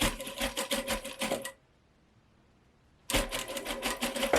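A home sewing machine with a zip foot stitches an invisible zip, opening its coils as it goes. Two bursts of fast, even stitching sound close and loud, with a pause of about a second and a half between them.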